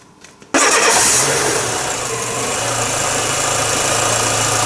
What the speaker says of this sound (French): Et tu redémarres ton moteur.